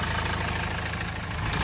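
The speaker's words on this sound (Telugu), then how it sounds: "ఇది సౌండ్ మాత్రం ఇట్లా ఉంది, వెహికల్ సౌండ్." A 2017 Mahindra XUV500 W8 diesel engine idling, a steady low throbbing rumble close by that stays even and continuous throughout.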